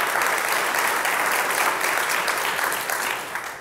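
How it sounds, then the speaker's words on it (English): A live audience claps loudly and continuously at a plastic waste event, a dense steady roar of hands sustained throughout and tapering slightly at the end. "Can we get a round of applause for that amazing video?"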